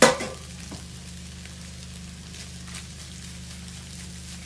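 Cooked rice tossed into a hot pan for egg fried rice with pak choi, a brief rattle as it lands, then a soft steady sizzle and faint stirring scrapes over a low background hum.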